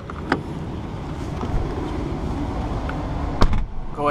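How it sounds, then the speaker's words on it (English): A 2013 Ford Explorer Limited SE conversion van with 18K miles out on a test drive: steady broadband road and engine rumble inside the cabin, with a couple of brief knocks or rattles over the drive. "Now let's go ahead and take it on a quick test drive."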